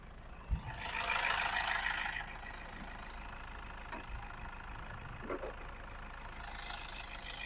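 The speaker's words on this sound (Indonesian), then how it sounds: "Dari mesinnya sendiri suaranya masih bagus, belum ada ngobos sama sekali" A 2013 Toyota Grand Innova 2.5 V automatic's diesel engine idles with a steady low rumble, a brief thump and rustle of handling near the start, heard close up without talking.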